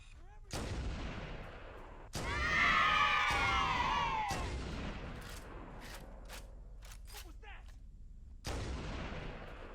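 Gunfire in the video game Halo CE sounds as several loud, sharp blasts with echoing tails, spaced a few seconds apart, along with a screechy burst of game sound effects.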